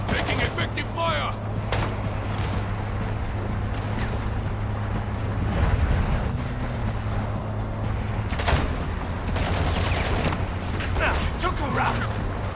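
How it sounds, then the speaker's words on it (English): Call of Duty DMZ gunfire crackles in scattered bursts and single sharp shots over a constant droning engine hum and mechanical noise, with voices talking over the action. "Taking effective fire!"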